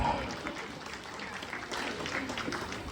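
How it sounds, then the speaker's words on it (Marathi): Audience applause at a Marathi storytelling performance about King Dasharatha, a steady wash of clapping from a crowd filling the whole moment, fairly close and even in loudness. "तुम्ही टाळ्या वाजवत बी कंजूसपणा करता"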